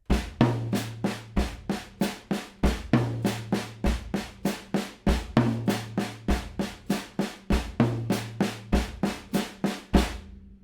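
A drum kit pattern rolls between floor and rack toms with a steady stream of crisp hits over deep tom thumps, loud and unaccompanied.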